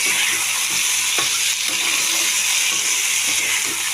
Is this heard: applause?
no